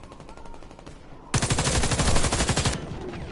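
Automatic gunfire in the shooter game Warface: a rapid burst of about a second and a half, loud and close, following lighter rhythmic rattling of shots.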